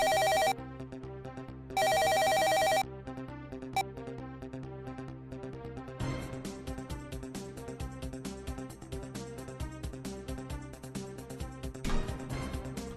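A telephone ringing after 911 is dialed in the 1987 Police Quest 1 game, with repeated electronic ring bursts at first, then continuing over a steady layered game music loop, loud and close with no talking.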